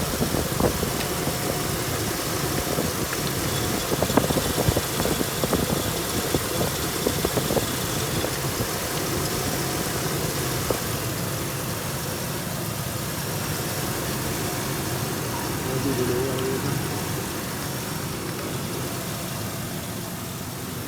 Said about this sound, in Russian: Двигатель работает чисто, не дымит.